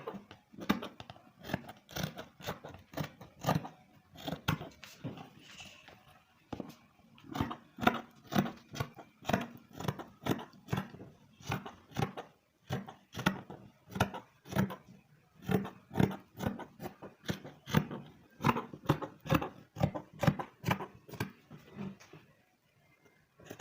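Fabric for a pencil gown is cut out with scissors, giving a long, steady run of close, soft, rhythmic snips with brief pauses, quiet and with no voices.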